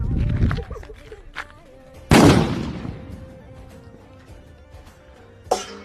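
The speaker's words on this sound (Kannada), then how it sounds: "ಆಟೋಮಮ್ ಕೆಳಗಡೆ ಒಂದು ವೆಸಲ್ ಇಟ್ಬಿಟ್ಟು ಹಾರಿಸ್ತಾ ಇದೀವಿ ಬಾಂಬ್." A Diwali firecracker bomb set off under an upturned vessel gives one sharp, loud blast with a long decaying rumble, followed later by a smaller crack. Voices and scattered noise are heard before the explosion.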